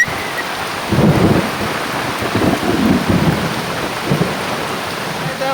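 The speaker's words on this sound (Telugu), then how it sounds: "కుండ పోత పోసినట్టు పోస్తుంది వాన" A heavy village downpour falls outdoors near trees, a dense, steady roar of rain with swelling gusts throughout.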